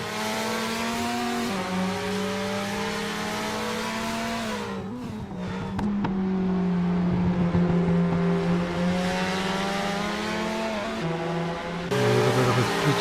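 Race cars including a Mazda RX-7 roar down the back straight in an SRA Group C race, engines droning loud and steady with rising and falling pitch as they pass, a sharper burst of engine noise near the end.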